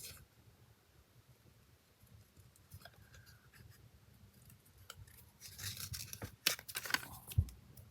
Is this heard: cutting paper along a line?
yes